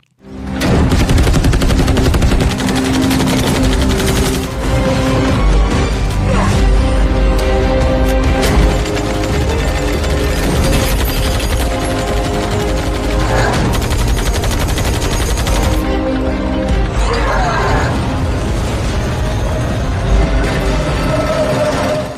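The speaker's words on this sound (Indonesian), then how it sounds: "Lalu ia pun langsung menghujaninya dengan tembakan." Heavy, sustained gunfire in a sniper film, with rapid automatic bursts and scattered booms, loud and unbroken for a long stretch.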